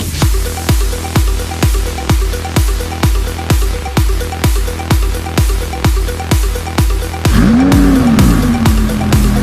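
An Audi R8 V10 Plus sports car pulls away close by, loud rhythmic engine pulses in quick succession, then a rising and falling rev sweep near the end.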